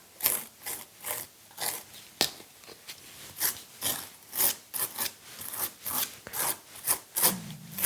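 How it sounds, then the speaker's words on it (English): Gritty light molding paste is spread across a photo collage with a palette tool, giving rhythmic rasping scrapes in short repeated strokes, close and fairly quiet. "You can hear the grittiness of the paste if you used light molding paste"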